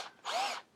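A Ferrex 12 volt cordless brushless 3/8 hammer drill, 2-speed, spins up when the trigger is pressed: one short, close whirring burst of under half a second, alone and with no other sound.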